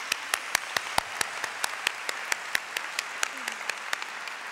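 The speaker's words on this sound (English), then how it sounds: "Let's give her a big round of applause." Graduation ceremony audience at West Kentucky Community and Technical College applauds the president in a sparse round of distinct, separate claps, fairly quiet and steady for several seconds before thinning out.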